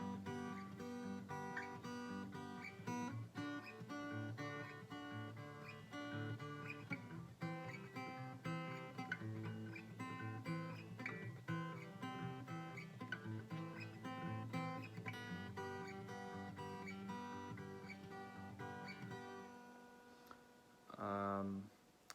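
Acoustic guitar playing the verse chords of a song, a steady fingerpicked pattern cycling through the chords for about twenty seconds, quiet and close, ending with a short voice.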